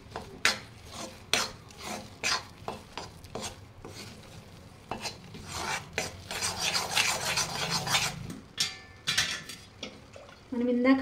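Laddu mixture being fried and stirred in a pan over low heat, with repeated scraping and rasping strokes of a spoon against the pan, close and fairly loud, and a brief sizzling stretch toward the end.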